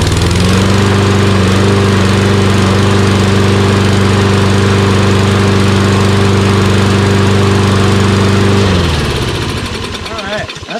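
A Toro Recycler XT675 lawn mower with a Kohler engine, troubleshot for hard starting and stalling, runs with a loud steady close drone for about nine seconds, then cuts off and winds down.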